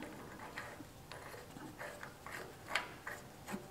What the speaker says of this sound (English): take your socket, and just start tightening it